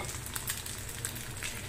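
Eggs sizzling in a pan on the stove, a soft continuous frying hiss with light crackles and occasional spatula scrapes.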